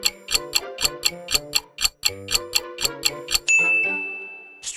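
A retro arcade sound effect from the video game Street Fighter 2 plays alone: a fast run of bright chiming, ticking dings in steady rhythm, ending in a sustained ringing tone.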